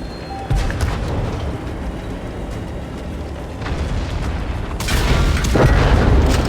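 Tank cannon fire and battle rumble from World of Tanks Blitz with an Object 252U, a heavy booming blast early on and a louder, sustained roar of explosions near the end over continuous low rumble.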